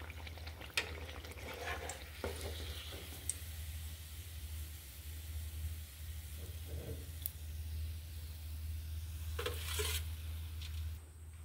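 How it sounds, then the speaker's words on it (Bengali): Sugar pitha batter frying in a small amount of oil in a village kitchen, a steady soft sizzle throughout with occasional stirring scrapes and utensil clinks. "এভাবে সব কটা ভেজে নেব।"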